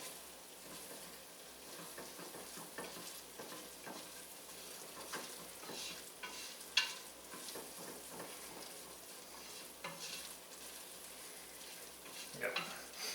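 Flour being stirred and pushed around in a hot pot while making lobster bisque, giving a soft continuous sizzle with faint scraping under it, quiet and close.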